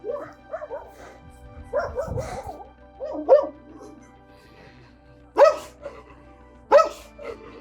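A small dog yips and barks in short bursts, with several sharp barks near the end, while people talk nearby.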